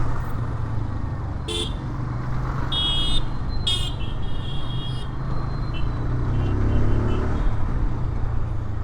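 Several short, high horn beeps from a 2024 RTR 160 2V motorcycle sound over the steady rumble of its running engine and road traffic.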